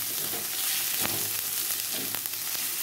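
Cumin and coriander powder are mixed in a hot frying pan, giving a continuous close sizzle with a few sharp scraping strokes of the spoon.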